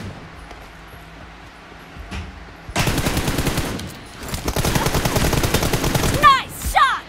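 Rapid bursts of automatic gunfire in Battlegrounds Mobile team deathmatch, quiet at first, then loud sustained volleys after a few seconds with a brief pause and sharp final shots.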